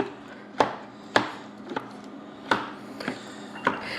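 Strawberries being chopped with a meat tool for a fresh strawberry pie: several sharp, distinct chopping thuds at an uneven rhythm, close and fairly loud against a quiet kitchen background.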